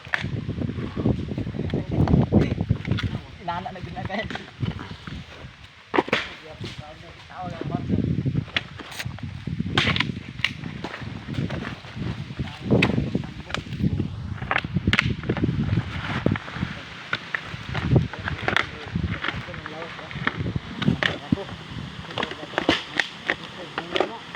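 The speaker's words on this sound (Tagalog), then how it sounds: "grabe kahangin ng dulo murag kag mapalit tungod sa kusog nga hangin" Strong wind roars and buffets the microphone in heavy low gusts throughout, with people talking now and then beneath the rushing noise, outdoors during copra making.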